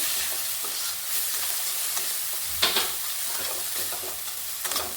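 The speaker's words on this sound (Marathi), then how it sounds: "1-2 मिनिटं परतून घ्यायचे ते पण छान मसाले" Ground spices including garam masala, turmeric and red chili powder sizzle and fry in a hot pan, a steady close crackling hiss with a few sharper scrapes of stirring, with no talk.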